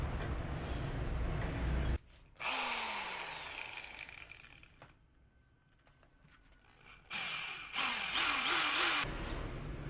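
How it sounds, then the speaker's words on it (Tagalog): A power drill bores holes in a homemade crankshaft pulley removal tool for a Toyota. Loud, close motor whine and grinding come in two bursts separated by a quieter stretch, with the pitch shifting as the bit bites. "ngayon bubutasan ko na lang"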